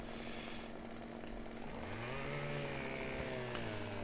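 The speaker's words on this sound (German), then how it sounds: "So, dann schneiden wir die nochmal manuell mit der Hand hier durch. Also nicht mit der Hand, sondern mit der Kettensäge." A chainsaw cuts through a tree in Landwirtschafts Simulator 2015 during forestry work, a steady loud buzzing motor whose pitch bends as the blade bites into the wood, with no talking.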